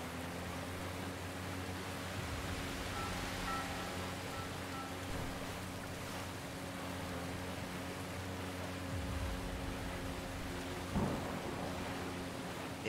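Steady roar of rain and rolling thunder with crashing big waves during a storm in the video game Submerged: Hidden Depths, a dense continuous wash with a low rumble and a brief louder swell near the end.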